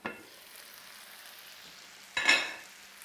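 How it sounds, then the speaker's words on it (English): Chicken and garlic sizzle gently in a covered skillet, a soft steady fry throughout, with a brief louder burst of crackling near the end. "You want to hear just a bare sizzle from the pan."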